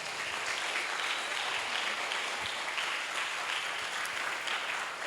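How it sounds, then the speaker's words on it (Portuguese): Sustained loud applause from a large church congregation, steady clapping filling the whole stretch without pause. "Você pode aplaudi-lo bem forte?"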